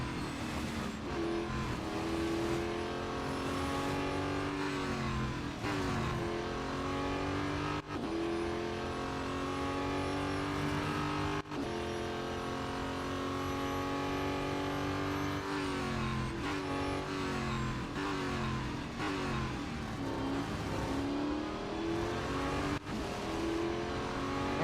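Race car engines in the Real Racing 3 mobile game whine and rev continuously, rising in pitch and then dropping at each gear shift, loud and close, with no voices.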